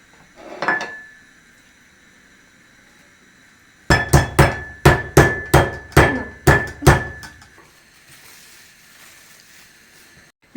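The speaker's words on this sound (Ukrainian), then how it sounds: "Далі продовжую відбивати м'яско." Meat being pounded with a meat mallet in a home kitchen: one hit, a pause, then a quick run of about eight sharp, ringing blows in steady rhythm, close and loud.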